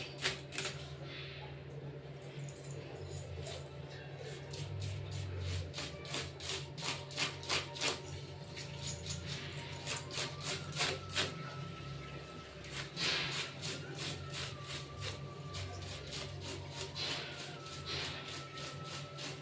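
A brush scrubs silver anklets in quick, rapid strokes, a faint, rhythmic scratching that runs steadily and close throughout.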